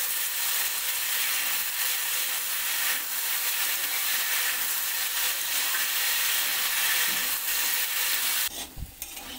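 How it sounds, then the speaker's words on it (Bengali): Sliced potatoes frying with browned onions in a pan give off a steady, close hiss that holds evenly for most of the stretch, then cuts off briefly near the end with a soft knock. "আলুটাও লাল করে ভেজে নেব"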